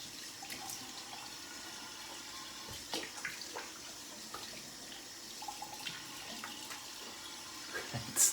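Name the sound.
tap water running while rinsing off shaving soap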